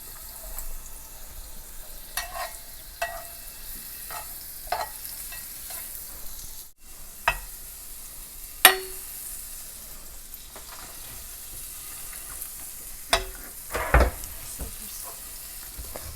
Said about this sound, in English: melt a bit of butter so it coats the pan lightly, like this.